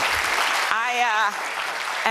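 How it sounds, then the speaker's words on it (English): A crowd at a political speech claps and cheers in a dense, steady wash of applause, with one sustained voice rising over it near the middle. "It's when you guys are supposed to cheer, okay?"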